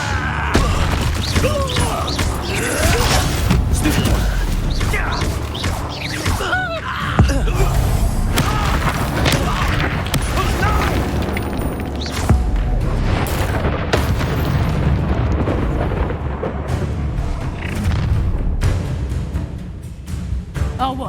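Spell blasts boom and crash in rapid succession during a combat fight in the Hogwarts Legacy video game, dense loud bursts and impacts running continuously with game voices mixed in.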